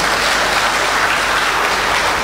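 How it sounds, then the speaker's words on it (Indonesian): Applause fills a national seminar hall for Indonesian ICT teachers. Dense, even clapping from a large audience carries on without pause and is loud and close, with no voices over it. "Tepuk tangan buat anak-anak kita."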